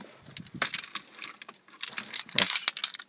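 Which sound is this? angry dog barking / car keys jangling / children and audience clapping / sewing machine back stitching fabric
car keys jangling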